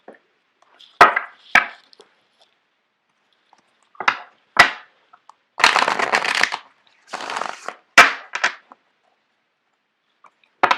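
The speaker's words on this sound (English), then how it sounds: "I'm going to shuffle out the cards for you guys." Tarot cards being shuffled by hand in several separate bursts, short crisp riffles and slaps with quiet gaps between them, close and alone without talk.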